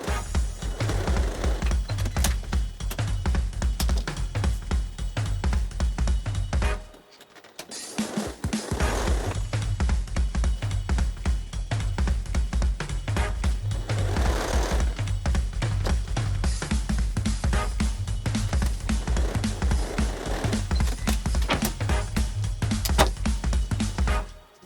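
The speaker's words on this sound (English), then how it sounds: "So you want to really be careful when you're sewing over there." A sewing machine stitches strip-pieced quilt fabric for half square triangles, running as a steady, fast, close mechanical whir with one brief pause partway through.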